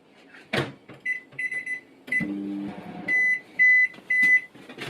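A microwave oven: a door clunk, a short electric hum, and a run of bright, close beeps in separate bursts.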